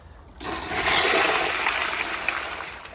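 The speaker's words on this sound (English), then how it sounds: "But here's a flush on full pressure." A 2007 American Standard Allbrook urinal flushing at full pressure, a sudden loud rush of water that starts abruptly and roars steadily for a few seconds, close and with no talking.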